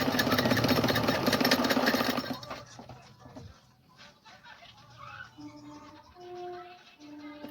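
Sewing machine stitching a cloth cap, a fast, even mechanical whirr of the needle that runs for about two seconds and then stops, followed by quiet handling noises and a few faint tones.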